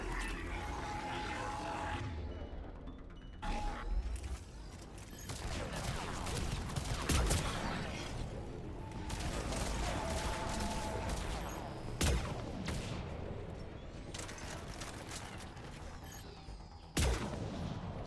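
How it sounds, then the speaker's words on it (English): Shotgun fire in the video game Mass Effect 3 on Tuchanka, several sharp, loud blasts spaced irregularly amid continuous combat noise, gunfire and grunts. "Shotgun!"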